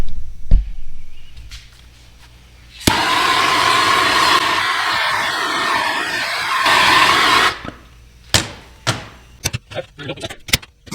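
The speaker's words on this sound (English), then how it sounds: "Apply a little more heat, and then we're going to fine tune this thing." A heat gun blows steadily for several seconds as it heats a bent aluminum dirt bike radiator, a loud close whoosh. Sharp clicks and knocks from handling the part come before and after it.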